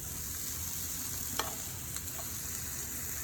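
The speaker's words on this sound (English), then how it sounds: "Then you add your asparagus and some cherry tomatoes and let those soak up all the flavor" Asparagus and cherry tomatoes frying in a pan with lemon and garlic, a soft, steady sizzle heard close but quietly, with a couple of faint clicks from stirring.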